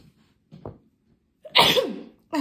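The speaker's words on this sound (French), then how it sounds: "désolée, je devais éternuer" A woman sneezes: a short intake of breath, then a loud, sharp, explosive burst that trails off, followed by the start of another noisy sound. It is close and clear, with no talk over it.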